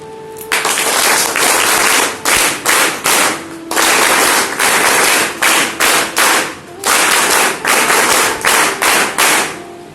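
Students at a school event clap their hands in loud bursts of applause for their teachers, starting and stopping repeatedly in short rhythmic waves, with no talking over it.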